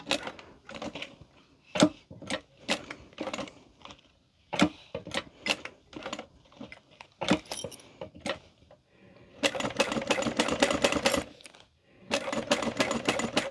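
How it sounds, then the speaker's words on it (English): A sewing machine top stitches wallet pieces together in rhythmic bursts of rapid needle clatter, separated by short pauses, then runs in two longer continuous stretches near the end. "now we're going to be top stitching these pieces together up at the top"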